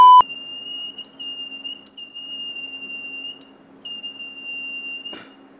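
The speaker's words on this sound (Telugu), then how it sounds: "అప్పుడే మనకి బజర్ సౌండ్ కూడా వస్తుంది." A homemade fire alarm's buzzer sounding after detecting fire: a loud, steady electronic tone held for several seconds, briefly dipping twice, then cutting off with a click.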